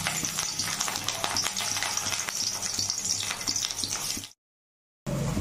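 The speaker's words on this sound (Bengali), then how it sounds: "ফুলকপি ভাজা হয়ে গেছে," Cauliflower florets marinated in turmeric and salt fry in a pan, giving a steady close sizzle with crackling bursts that cuts out briefly near the end before resuming.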